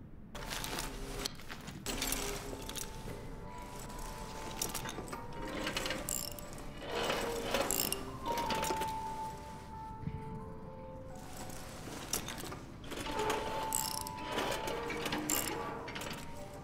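A wrench turns a mechanism in the horror game Amnesia: The Bunker, ratcheting clicks and grinding metal gears rising and falling in bursts over a low droning background.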